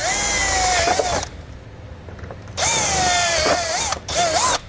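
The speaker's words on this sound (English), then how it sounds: "I'm going to use my 1/4-inch drill bit one more time." A power drill with a quarter-inch bit whines loudly, stops briefly, then spins up again with a high motor pitch that wavers as it bites.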